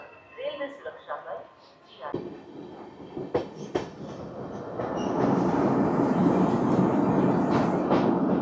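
An Amrit Bharat Express running between Malda Town and Gomtinagar crosses an open bridge, first with scattered clanks and knocks under talk, then swelling into a loud, continuous rumble of rolling wheels on the span.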